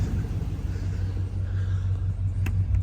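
Low, steady exhaust rumble from a 2007 Hummer H2 with the factory exhaust, a smooth idle-like drone held at constant level throughout with no talking.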